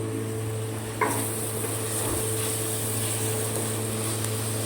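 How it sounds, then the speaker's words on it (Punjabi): Thick-cut onions sizzle steadily in a pan for a tadka, a close, even frying hiss that holds the same level throughout with no talking. "ਮੋਟੇ ਥੋੜੇ ਜਿਹੇ ਗੰਡੇ ਰੱਖ ਕੇ ਨਾ ਤੜਕਾ ਲਾਉਣ ਆ ਥੋੜਾ ਹਲਕਾ ਜਿਹਾ ਭੁੱਜ ਗਿਆ"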